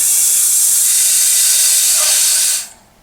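Steady loud pressurized hiss from a paint filling machine forcing custom-mixed automotive paint for a 1973 Dodge Charger into an aerosol can, running about two and a half seconds before cutting off abruptly.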